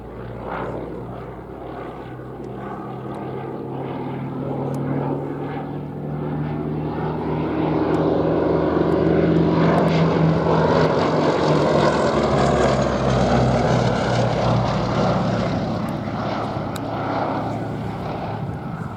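A Westland Lysander propeller aircraft in special duties markings, fitted with an under-fuselage long range tank and an access ladder, flying past at an air display, its engine drone swelling louder then easing slightly, with no talk.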